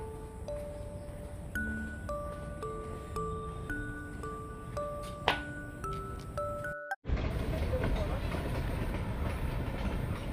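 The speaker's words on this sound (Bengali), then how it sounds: "টয় ট্রেন বেরিয়ে গেল" A toy train runs through Eco Park in Kolkata at night: a looping electronic melody plays for several seconds, then a sudden loud, continuous rumble of the train passing close by.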